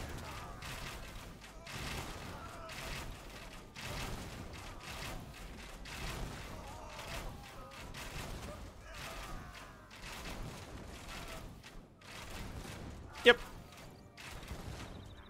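Elite organ guns fire volleys during an Age of Empires battle, with rapid repeated gunfire bursts and thuds mixed into busy battle noise, heard under ongoing talk.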